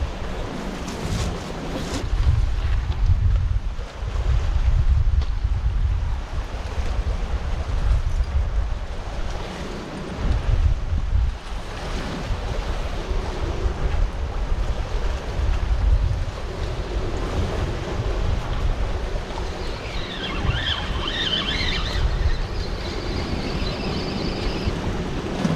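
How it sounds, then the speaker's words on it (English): Winter wind and waves at sea on a north-east UK cod fishing trip over rough ground, with a strong north wind buffeting the microphone and choppy water washing continuously, loud and unbroken for the whole stretch. "Wind switched round to the north and we've got this wind coming right in now."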